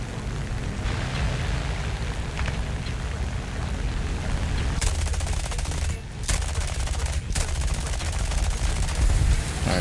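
Yak-3 fighter plane guns firing in a USSR air-combat video game, a steady rapid stream of automatic fire with engine roar beneath, loud and continuous with brief gaps around the middle.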